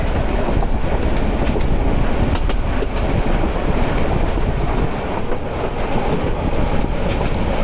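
A passenger train travelling from Patiya toward Cox's Bazar rolls steadily on its rails past a railway station, with a continuous loud rumble and clickety-clack of the wagons and no talking.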